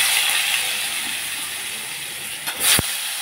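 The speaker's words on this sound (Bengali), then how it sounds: "সেম প্রসেসে আমি আলু ভাজা তেলের উপরে কুমড়োগুলো ছেড়ে দিচ্ছি" Pumpkin pieces dropped into hot oil left over from frying potatoes, producing a steady loud bright sizzling hiss with a brief sharper crackle and spit near the end, close up and without talk.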